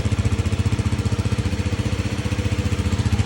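Kawasaki KLX300 motard with a fuel-injected single-cylinder engine and stock exhaust idling after a cold start, a close, steady, rapid thumping pulse.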